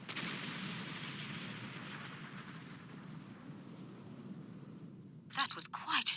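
Starship weapons fire in Star Trek Online as a sustained roaring, rumbling barrage that slowly fades, followed by a burst of louder sharp blasts and crackles near the end.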